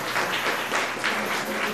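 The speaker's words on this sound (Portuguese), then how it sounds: "uma salva de palmas lá do" An audience at a political plenary with samba de roda claps in welcome for a sambadeira from the Recôncavo Baiano, a soft, steady wash of many hands heard from a distance, with no talking.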